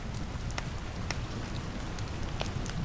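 Light, gentle rain falls steadily as a soft, even patter on surfaces, with scattered louder individual drops ticking throughout, heard as a quiet rain sound effect.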